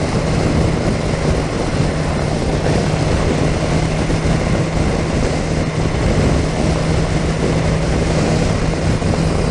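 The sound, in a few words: 2018 BMW S 1000 XR motorcycle throttle body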